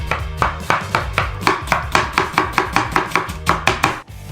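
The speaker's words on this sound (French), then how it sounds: "Commencez la deuxième sauce marinara en coupant l'oignon en cubes." An onion is diced with a knife on a board in rapid, evenly spaced chops, about four per second, close and crisp with no voices.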